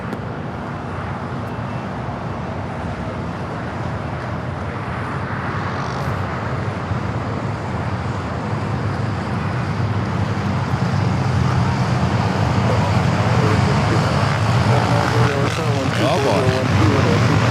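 A Lufthansa Airbus A340-300 on short final to runway 24 right at Los Angeles airport produces a broad engine rumble that swells steadily louder as it approaches, with someone speaking briefly over it.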